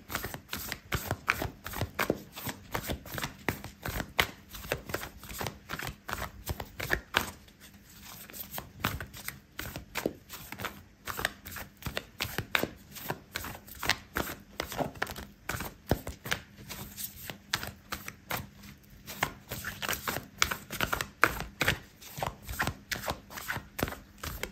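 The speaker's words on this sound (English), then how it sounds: "I'm going to pull out an oracle card for you" An oracle card deck shuffled by hand during a tarot reading: a continuous run of rapid, close card riffles and slaps with a short pause partway through, no speech.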